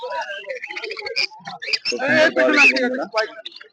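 Birds at a bustling bird market with yellow-sided conures for sale: busy chirps and squawks mixed with someone talking over them, close and fairly loud.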